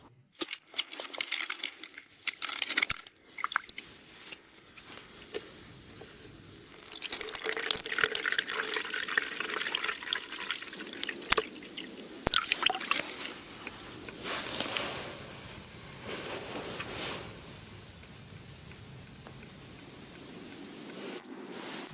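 Dirty, black puddle water trickles and drips slowly through a DEL water filter, with irregular close splashes and drips that come in bursts and then thin out toward the end.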